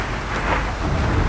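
Rain and rumbling thunder inside an enclosed base in a prehistoric park-building game, a steady wash of rainfall with a low roll underneath, brief and fairly loud.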